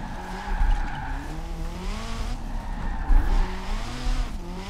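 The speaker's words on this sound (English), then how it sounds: "So it is drifting a lot better with those tweaks" A Lego Ferrari F40 RC car drifts, its electric motor whining and rising and falling as tires squeal in repeated slides, close and fairly loud with no talking.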